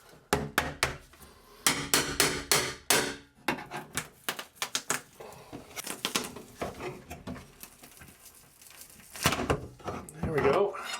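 An old shelf support board is pried and ripped off a drywall wall, giving sharp, irregular cracks, knocks and scraping thuds in uneven bursts at close range, with a voice speaking intermittently between them.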